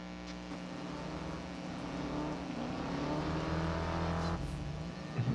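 A race car in the mobile racing game Need for Speed No Limits holds a steady engine drone that slowly rises in pitch as it accelerates, loud and continuous with no talking.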